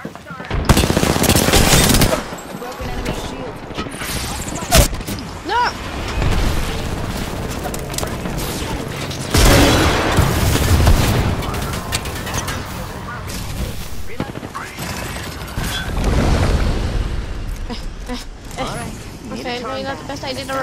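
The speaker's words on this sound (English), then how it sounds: "Throwing frag." Frag grenade blast and heavy automatic gunfire in an Apex Legends firefight, loud bursts of shots and booms up close with voice lines and talk over the action.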